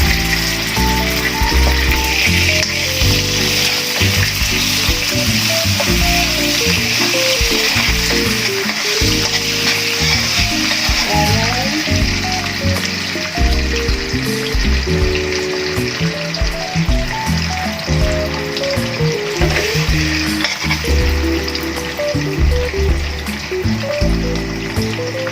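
Butter melts and sizzles steadily in a pan at the start of a yema spread, a loud, continuous frying hiss with scraping stirs and clinks over it throughout.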